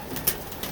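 A pigeon in a loft gives a short, soft coo, heard up close in a brief moment with faint background rustle.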